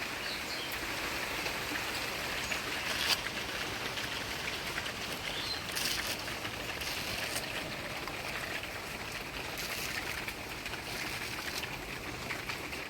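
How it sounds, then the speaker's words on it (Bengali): Steady rain falls outdoors in rural Bengal, a soft, even hiss of drops on leaves and surfaces that continues without pause and sounds fairly distant. "বৃষ্টি কি আজকে সারাদিনই হবে না নাকি কি মনে হচ্ছে"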